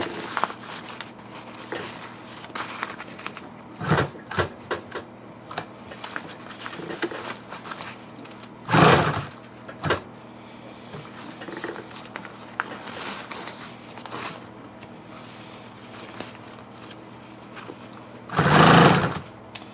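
A sewing machine stitches vinyl in short, rapid bursts of chattering needle action, broken by pauses and occasional louder thumps as the material is handled.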